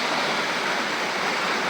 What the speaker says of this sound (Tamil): ஏதோ எங்கள் நேரம் ஃபால்ஸில் தண்ணி வந்துட்டு இருக்கு